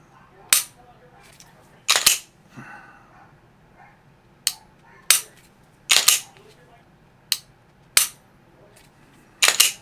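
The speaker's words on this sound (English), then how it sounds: "Let's see how good I can do with the safe action pistol. Let's, well, start with 5 shots." Five sharp, separate shots from a safe action pistol crack out at spaced intervals in a quiet setting, each one loud and close.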